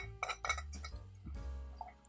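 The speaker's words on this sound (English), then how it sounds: "I'm going to stir this up" A bourbon cocktail with fresh lime juice is stirred in a glass, giving several close, bright clinks and ticks of ice and spoon against the glass in an uneven rhythm.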